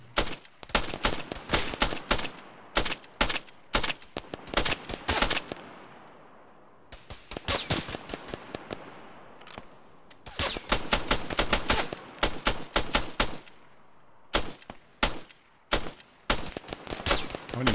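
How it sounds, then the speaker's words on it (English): Rapid bursts of automatic gunfire from Arma 3 in the Antistasi mode on Malden, loud, close shots in clusters separated by short pauses. "He's shooting into the ground."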